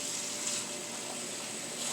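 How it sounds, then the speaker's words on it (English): Cold tap water runs steadily into a container for kombucha brewing, a continuous close hissing gush with no talking. "You want to fill it up with cold water to bring the temperature way down."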